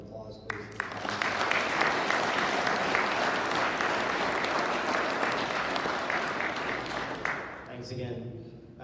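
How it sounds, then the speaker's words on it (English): Audience gives a sustained round of applause for a soldier, swelling quickly from a few claps into full, dense clapping that holds steady before tapering off, with faint voices at the edges. "If we could have a round of applause, please."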